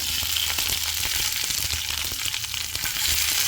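Mustard seeds, green chillies and curry leaves crackle and sizzle loudly in hot oil in a pan, a dense steady frying hiss with scattered pops, heard close and alone.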